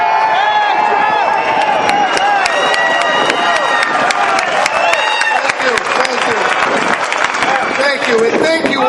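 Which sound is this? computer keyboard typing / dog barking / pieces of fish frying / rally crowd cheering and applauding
rally crowd cheering and applauding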